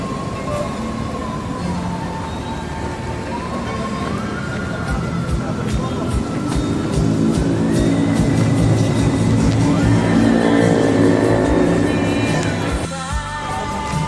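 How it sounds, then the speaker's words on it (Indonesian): An ANS intercity bus pulls away from Pondok Pinang on a trip to Padang, its engine revving up in steady rising steps and rumbling loudly throughout, with people talking faintly in the background. "Ini bis NS siap diberangkatkan."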